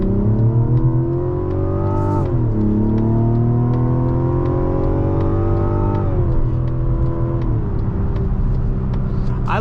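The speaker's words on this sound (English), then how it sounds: "I like the engine note. It's definitely unique." A Mazda CX-90 turbocharged inline-six in sport mode revs loudly and steadily from inside the cabin, its pitch climbing in several rising sweeps with brief dips between gear shifts.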